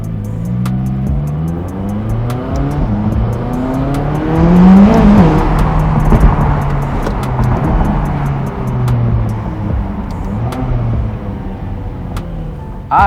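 A McLaren sports car accelerates hard through repeated gear changes, engine pitch sweeping up and dropping back with each shift, loud and close from inside or near the car, with no talking.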